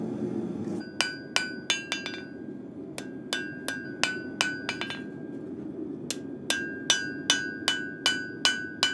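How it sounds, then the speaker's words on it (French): A hammer striking a hot knife blade on an anvil horn to smooth out dents, a series of sharp ringing metallic clinks in quick bursts of several blows with short pauses between, close and clear with no talking. "je reprends sur le plat pour enlever les impacts de marteau et les impacts de bigorne."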